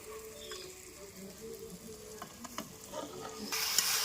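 Marinated chicken pieces sizzle in a spice masala with a soft, constant frying hiss and scattered spatula scrapes and taps, the sizzle swelling louder in the final half second.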